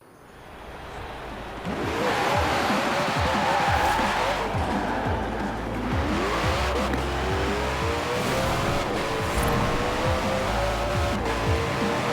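A Koenigsegg Jesko hypercar in the racing game Forza Horizon 4 roars loudly as it accelerates, with rising engine revs, gear shifts and tire noise over a continuous, close drone.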